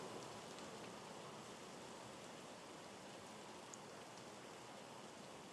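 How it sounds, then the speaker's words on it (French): Steady rain falling with a dense, even hiss throughout, continuous and moderately close, with no voices. "Je n'entends pas, il pleut."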